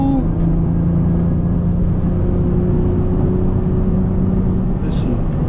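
A 500 HP BMW car drives on with a steady, loud engine and road drone that holds constant throughout, without clear revving peaks.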